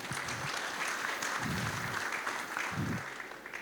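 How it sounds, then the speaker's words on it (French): An audience claps at an industry meeting after a minister's address, a dense, steady patter of applause heard from some distance and fairly quiet throughout. "Je vous demande d'applaudir."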